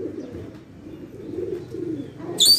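Pigeons coo softly in low, throaty repeated calls nearby, steady and close, with a brief sharp higher noise at the very end.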